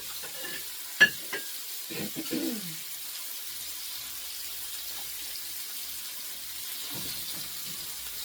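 Shrimp for shrimp scampi sizzling faintly in a pan, a soft steady hiss broken by a few utensil clinks and scrapes near the start, then settling into a quiet background fizz.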